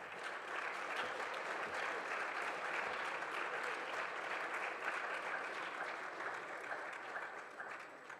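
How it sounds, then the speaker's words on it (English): An audience applauds at the close of a lecture, a steady, fairly faint wash of many hands clapping for about eight seconds before tapering off together. "you guys can clap"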